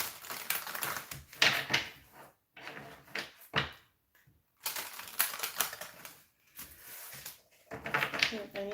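Quick papery riffling and soft slaps of oracle cards being shuffled in bursts, close by, separated by short quiet gaps.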